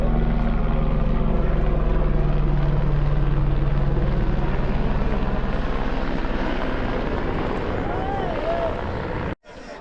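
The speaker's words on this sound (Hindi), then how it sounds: "तो वो हेलीकॉप्टर जा रहा है।" A helicopter passes over the snowy Amarnath Yatra trail on the Pahalgam route, producing a steady droning engine rumble with a throbbing low hum that holds for several seconds before cutting off abruptly near the end.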